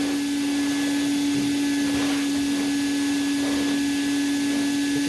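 A Prolux CTX vacuum cleaner fitted with a turbo tool runs continuously on a couch, producing a loud, steady high whine and airy suction roar with slight shifts as the nozzle moves across fabric.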